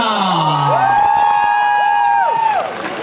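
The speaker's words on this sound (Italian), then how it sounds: "Quindi fate forte l'applauso per Gomma Rosa!" A crowd at a Comicon cosplay contest cheers and whoops for a performer, with loud high-pitched sustained shouts and yells rising over the noise of the hall.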